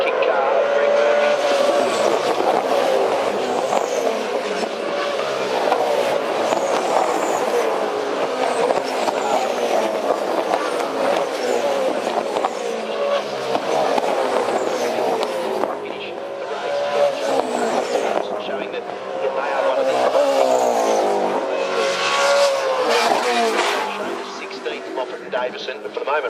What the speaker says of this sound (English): So that car on screen, the Pepsi Max kick car, Greg Murphy.